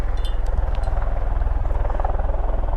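A V-22 Osprey tiltrotor flies near RAF Mildenhall, its rotors giving a loud, steady rhythmic thumping drone that dominates throughout.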